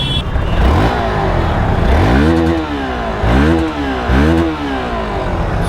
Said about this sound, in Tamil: இதை நிறுத்திட்டு வண்டியோட எக்ஸாஸ்ட் நோட்டு பார்ப்போம்.